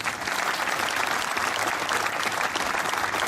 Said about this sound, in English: I know you applauded already, but please join me in showing your appreciation to this Clay County Board of Commissioners